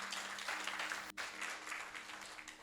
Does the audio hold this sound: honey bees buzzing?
no